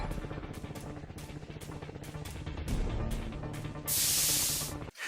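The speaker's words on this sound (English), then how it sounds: "I mean, this backpack sprayer just got a little cheap one." A cheap backpack sprayer's rhythmic pumping clatter builds steadily, then a loud, close hiss of spraying takes over near the end before stopping abruptly.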